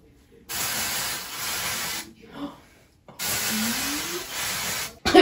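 Two long, steady bursts of aerosol hair spray hiss loudly and close by, separated by a brief pause with a faint voice.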